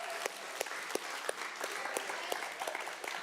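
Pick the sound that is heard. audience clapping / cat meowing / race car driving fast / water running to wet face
audience clapping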